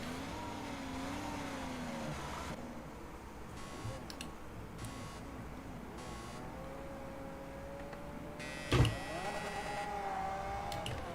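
Race car engines in Project Cars 2 launching together at the start of a road-car race, a steady mid-level engine drone with shifting pitch and a sharp loud bang near the end, no talk over it.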